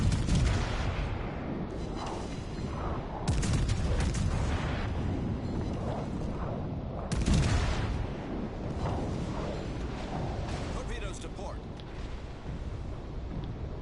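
Naval guns fire repeatedly in a PS4 warship game, heavy booms and rumbling blasts rolling one after another with little pause, loud and continuous throughout, with someone talking over the battle.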